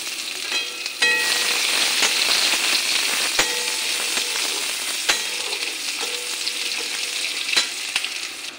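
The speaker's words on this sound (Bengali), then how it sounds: "পেঁয়াজটা লাল লাল করে ভাজা করে নিয়েছি" Chopped onions frying in hot oil with bay leaf and whole cumin, a dense continuous sizzle with scattered sharp crackles and pops, close and steady throughout.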